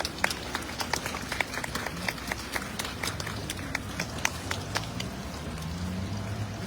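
Scattered clapping comes from an outdoor audience at a Buddhist Vesak Walk for Peace event in Toronto/Mississauga, with many crisp, uneven hand claps over a steady wash of ambient noise.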